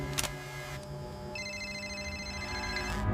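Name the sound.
old mobile phone ringing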